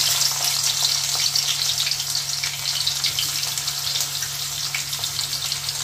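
Chopped onion and nigella seeds fry in hot oil, giving a loud, dense, continuous sizzle with crackling bursts throughout, with no talking.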